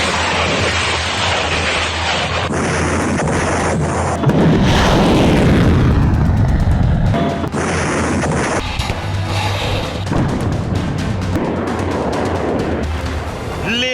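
Explosive strikes on Hezbollah positions in Lebanon, a loud, continuous barrage of blasts and booming impacts with heavy rumble throughout, peaking in a sustained burst midway.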